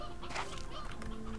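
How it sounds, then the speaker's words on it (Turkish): Chickens and roosters on a farm in the video game Slime Rancher 2, a brief burst of clucking and squawking that is fairly clear, over a steady background hum. "Burada ilk başta çok az tavuk ve bir iki tane horoz vardı."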